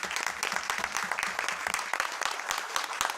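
Applause breaks out at a town council meeting, a room of people clapping in a quick, dense, uneven patter at moderate volume.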